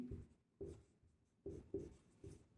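Pen writing on paper during a Class 10 maths lesson on arithmetic progressions: close, scratchy strokes in five or so short bursts with brief pauses between them and no talking.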